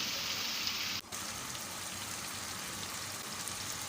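Meat fries uncovered in a pot for chicken korma, a soft steady hiss and crackle like light rain that continues evenly, quiet and close, with one brief dip partway through.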